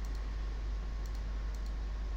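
Keyboard shortcuts are pressed on a computer keyboard: a few soft, quick key clicks in small clusters over a quiet background hum, close and faint.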